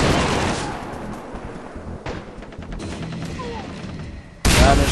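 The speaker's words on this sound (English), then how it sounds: "Freaking shotgunners keep sneaking up behind me and shooting me in the butt." Shotgun blasts in the Far Cry 3 co-op shooter, heavy booming shots at the start and end with scattered gunfire in between, loud and close.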